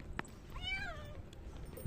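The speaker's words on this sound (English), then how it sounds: "We've got two very unhappy cats." Two unhappy cats meowing and howling, one drawn-out wavering meow rising and falling in the middle with a few shorter cries around it, fairly close against a quiet background.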